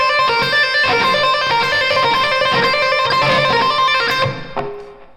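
An electric guitar plays a fast lick, a quick stream of bright sustained notes that rings out and fades at the end, with no one speaking.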